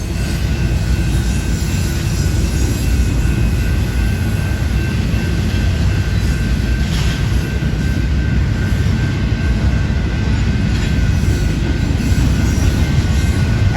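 Several freight trains hauled by ES44AC locomotives pass together in a triple meet at Sulfur and Knox avenues. The rumble stays loud, close and continuous, with broadband wheel and rail noise and no talk.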